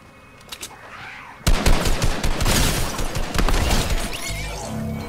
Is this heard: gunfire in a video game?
yes